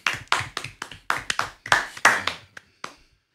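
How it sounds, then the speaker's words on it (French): A handful of scattered hand claps on a French talk-show set, about ten sharp, uneven claps spaced over a few seconds, close and fairly thin, as from a small group rather than a full crowd. "Là, vous êtes censés applaudir, les frères."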